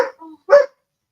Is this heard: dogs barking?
yes